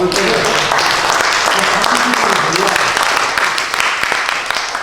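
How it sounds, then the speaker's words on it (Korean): A crowd at a Korean national liberation day ceremony applauding loudly and steadily, dense clapping throughout with a voice audible underneath. "박수 쳐"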